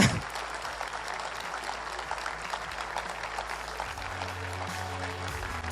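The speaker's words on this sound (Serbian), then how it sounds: "a onda ćemo jedan aplauz za njih naravno" Sustained applause from a sizeable crowd at a political rally, steady and dense clapping throughout with no speech over it.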